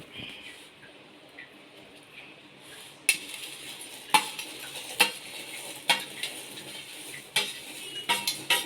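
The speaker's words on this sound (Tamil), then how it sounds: "இப்போ நம்ம அடுப்பை சன்னமாக வைக்கிறோம். வச்சுட்டு இந்த பொரியெல்லாம் போட போகிறோம்." Puffed rice (pori) tumbles into a pan over a low flame and gets stirred, a soft rustle followed by a series of sharp metallic scrapes and taps at a steady pace, close by with no talking.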